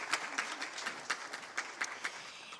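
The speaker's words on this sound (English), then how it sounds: "So I think a big applause to Tonia." Quiet, sparse clapping comes from a conference audience at a women's economic forum in Greece, with distinct individual claps in an uneven rhythm over about two and a half seconds.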